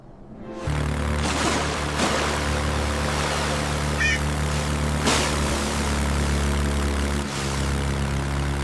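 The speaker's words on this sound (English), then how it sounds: "It's a cargo plane." A cargo plane flies in a children's cartoon, a steady loud propeller-engine drone with a constant low hum that fades in quickly and holds, with a couple of faint whooshes.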